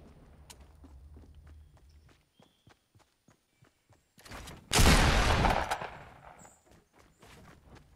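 A single loud gunshot in the video game Fortnite cracks out near the middle, preceded by sparse, quiet game clicks and footsteps.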